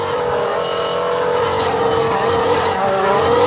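A yellow toy Formula One race car gives off a steady, loud engine-like whine with a slightly rising pitch, continuous throughout and heard alone, without voices.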